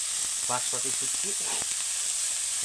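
Tomatoes go into a pan of frying onion for dried fish chutney, giving a constant bright sizzling hiss throughout, with a voice speaking briefly over it.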